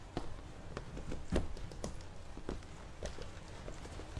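Footsteps of a character walking in a restaurant closing-shift video game, a run of soft, evenly spaced taps and thuds at moderate volume with no talk over them.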